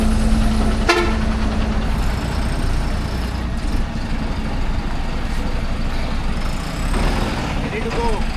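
A travel bus sounds its horn as it pulls away from a roadside hotel, one loud toot over a rumbling engine and hiss of air brakes, with nearby voices talking.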